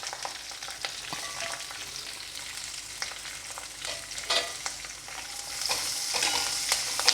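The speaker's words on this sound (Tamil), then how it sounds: "இப்போ நான் 2 வெங்காயம் ஆட் பண்ணுறேன்." Sliced onions fry steadily in a pan for a kurma side dish, a continuous sizzle broken by scraping stirs and clinks that grow a little busier toward the end, with no talking.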